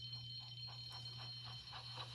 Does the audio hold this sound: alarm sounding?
yes